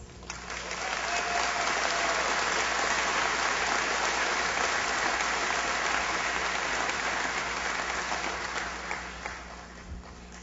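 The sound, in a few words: commencement audience applause for graduates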